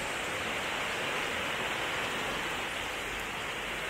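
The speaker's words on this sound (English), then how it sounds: "Rain's coming down pretty hot now." Heavy rain pouring steadily near Wat Arun, a dense, even hiss of water with no pauses and no other sounds standing out.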